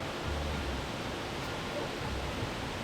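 Waterfall cascades near Luang Prabang, Laos roar in a steady, dense wash of falling water, close and constant with no voices over it.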